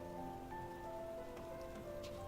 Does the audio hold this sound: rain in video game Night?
yes